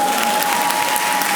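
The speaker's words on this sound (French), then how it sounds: "applaudissez." Audience applause fills a comedy show hall at the Lipanda Comedy Show 2023, a steady dense clatter of many hands clapping throughout with a faint crowd murmur.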